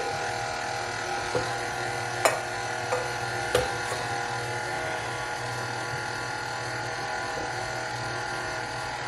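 A KitchenAid stand mixer runs steadily while mixing vegan lemon pound cake batter, a continuous motor hum and whir with a few faint clicks and knocks from the bowl.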